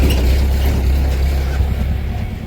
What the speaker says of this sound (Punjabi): ਪਹਿਲੀ ਸਲਫ ਤੇ ਸਟਾਰਟ ਇਹ ਹੋ ਜਾਂਦਾ